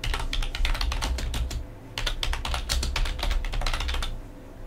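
Rapid clicking keystrokes on a computer keyboard while notes are typed into the Tropy application on Linux, in two quick bursts separated by a brief pause, close and clear.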